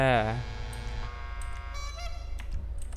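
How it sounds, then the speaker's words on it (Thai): A car horn in the video game Grand Theft Auto Online: a loud, buzzy honk blares at the start and fades, followed by softer tonal horn-like tones and a few clicks over a low hum. "เสียงแตรเอาเสียงไว้ดีกว่า"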